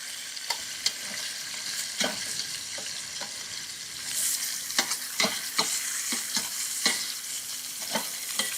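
Tomato paste sizzles and fries in a pot while being stirred, with the base starting to caramelize; steady crackling sizzle runs under repeated scraping stir strokes, close and moderately loud, with no talking.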